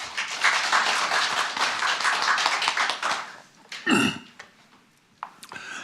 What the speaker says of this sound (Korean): 여러분 박수로 맞아주세요.